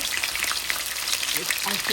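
Fish fries in a hot pan with a dense, even crackling sizzle, close and constant, while a faint voice murmurs briefly underneath near the end.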